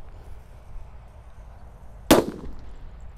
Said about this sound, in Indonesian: Namanya mercon sunflower, guys. Kita nyalakan.